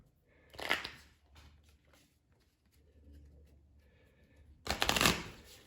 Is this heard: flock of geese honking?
no